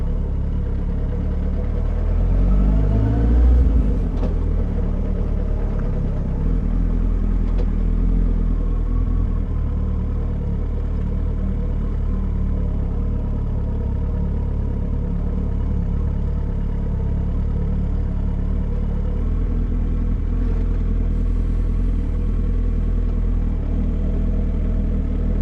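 A Suzuki GSX1250FA motorcycle engine runs at a steady idle close by, with a low continuous rumble and light mechanical clatter throughout, and no talk.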